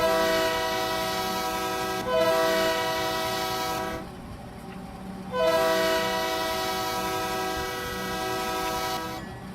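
Locomotive 5657 in the RO-Scale Sandbox train game, its horn sounding in two long, loud blasts separated by a brief gap, with a steady rumble running underneath, no voices.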